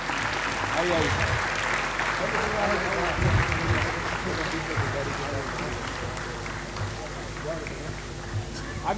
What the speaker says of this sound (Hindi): कृपया इन सभी लोगों के उत्साहवर्धन के लिए जोरदार तालियां बजाएं